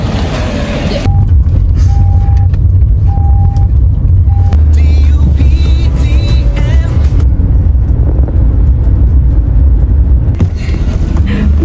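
A Grab ride-hailing car arrives amid loud, steady engine and road rumble, with short electronic beeps sounding intermittently over the traffic noise.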